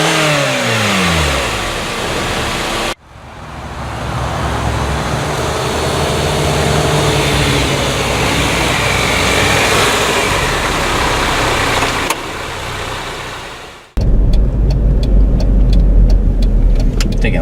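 A 2011 Hyundai Santa Fe SUV drives and turns, its mid-pitched engine humming steadily and rising as it accelerates, with a brief cut near the middle and louder rumbling road noise toward the end; no one speaks.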